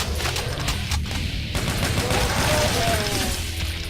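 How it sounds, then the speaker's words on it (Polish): Weapons blaze in Brutal DOOM Enhanced Edition, a loud, dense stream of rapid-fire shots and bursts that rattles on without pause for the whole stretch. "Strzelam wszędzie tam, gdzie nie ma przeciwników."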